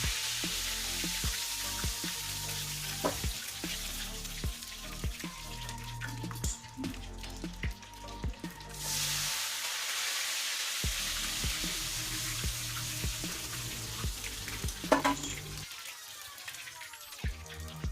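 Ghevar batter frying in hot ghee gives a steady, close broadband sizzle with bubbling crackle and occasional clinks, running continuously with no talk.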